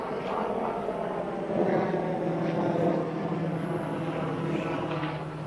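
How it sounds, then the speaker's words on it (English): A steady, droning engine rumble of several helicopters near Fort Rucker hangs overhead for the whole stretch, a continuous low hum of aircraft passing at a distance. "You hear a lot of helicopters."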